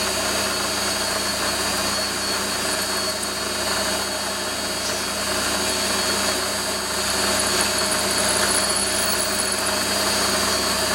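A metal lathe drills at about 900 RPM, giving a steady, loud mechanical drone with a constant whine that holds evenly throughout, without talk.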